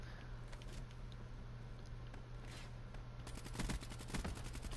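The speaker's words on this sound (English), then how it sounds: "Stop shooting at me" Gunfire in Call of Duty Black Ops III on the Cryogen map, with rapid automatic bursts and fusillades that sound distant and fairly faint, growing busier toward the end.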